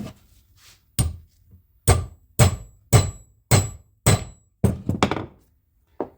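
A punch struck into a die to mushroom over a grommet on a universal engine diaper for a Turbo 1000: about nine sharp, ringing metal hammer blows at an uneven pace, close and loud, with near silence between them.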